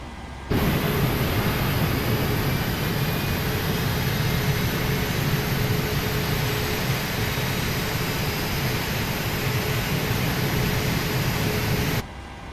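Airliner jet engine number two spooling up during start after pushback in Microsoft Flight Simulator 2020, a loud steady roaring whoosh with a faint whine that starts abruptly, holds evenly for about twelve seconds, then cuts off.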